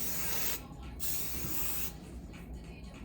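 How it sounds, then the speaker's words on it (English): Hair spray hisses from an aerosol can in two close bursts, the first brief and the second longer, with a short break between them. "Spray."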